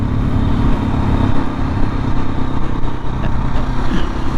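A KTM 690 SMC motorcycle's single-cylinder engine runs steadily and loudly at close range, a continuous throbbing drone with only slight changes in pitch throughout.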